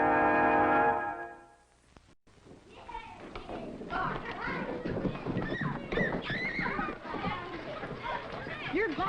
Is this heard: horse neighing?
yes